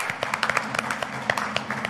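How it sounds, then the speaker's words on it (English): A round of applause from a church congregation, scattered claps rattling quickly and fairly faintly for a couple of seconds, sounding somewhat distant in the hall. "So let's give everybody a round of applause."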